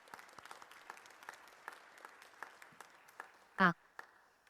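Light, scattered applause from an audience at a church gathering honouring families for their commitments, with sparse individual claps over a quiet room and a brief loud thump near the end.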